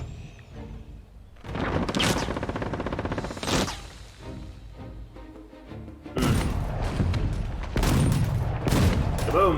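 Repeated booming volleys of anti-aircraft guns and line infantry fire in the Humankind strategy game, coming in dense loud bursts that swell and fade, with a brief lull before a heavier barrage.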